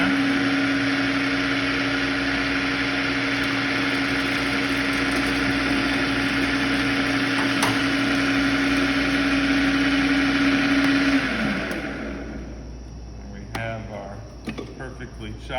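A food processor motor runs steadily with a constant hum while chopping garlic, going for about eleven seconds before it winds down and stops, leaving quiet handling noises.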